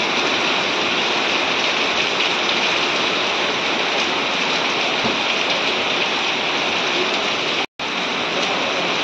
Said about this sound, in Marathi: पाऊस बघा कसला जोरदार आहे.